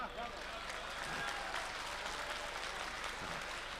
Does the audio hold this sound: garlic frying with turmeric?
no